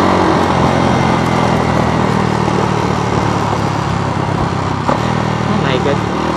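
Ducati motorcycles roar past close by, a loud continuous engine drone as excited voices shout over it.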